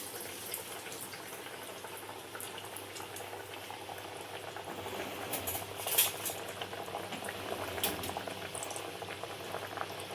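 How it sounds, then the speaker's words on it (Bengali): Breaded fish fry cooks in plenty of hot oil in a kadai, a faint continuous bubbling sizzle with scattered crackles that swell slightly midway; no voices. "আমি কড়াইতে একসঙ্গে দুটো করে ফ্রাই দেবো, কারণ তেলটা অনেকটা বেশি রয়েছে"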